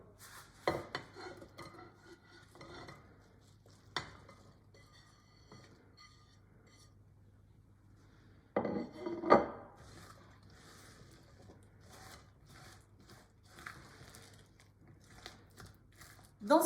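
Apple pieces dropped into cake batter for a moist apple cake, then mixed with a utensil scraping and clinking against the bowl, sporadic close knocks and a wet stirring rasp, with a voice speaking in between.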